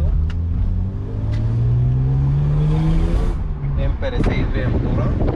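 A BMW 320i E36 with an M52 engine and an FSW sport exhaust revs up close, its pitch climbing steadily then dropping, with wind buffeting the microphone and someone talking over it.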